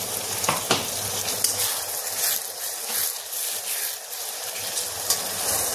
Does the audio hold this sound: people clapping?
no